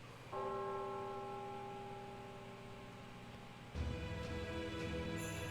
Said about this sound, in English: Was that a bell?